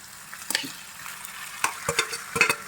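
Onions frying in a pan for tomato chutney, with a soft sizzle under intermittent spatula scrapes and taps in irregular clusters, close and fairly quiet, with no talking.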